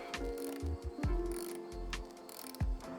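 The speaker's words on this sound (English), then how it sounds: "Now let's tighten up that throttle body clamp." A ratchet clicks in short bursts while tightening a throttle body clamp on a car's intake, close and fairly quiet, with brief pauses between strokes.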